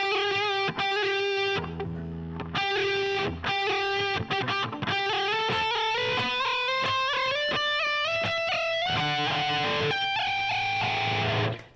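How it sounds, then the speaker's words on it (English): Distorted electric guitar notes are worked with the whammy bar, using the cat purr trick, which produces rapid fluttering, wavering pitch, with choppy bursts early on and then a sustained wobbling line, loud and close. "that vibration does is a little trick we call a cat purr"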